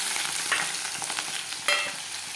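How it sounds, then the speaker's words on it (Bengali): Potatoes fry in a pan with a dense, bright sizzle and crackle, broken by a few light clicks of stirring, close by and without speech. "আলুটা একটু ভেজে নিই, ভেজে না আনলেও তো তাও একটু ভেজে নিই আসি যখন"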